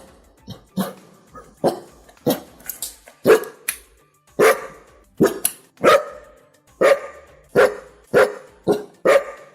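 A dog barks repeatedly and loudly at close range, about twenty sharp barks in uneven bursts with short pauses between them, and no voices.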